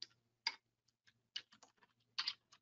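Someone types on a computer keyboard while filling in tax form fields in office software: scattered, uneven clusters of quiet keystrokes and clicks with short pauses, close by and alone.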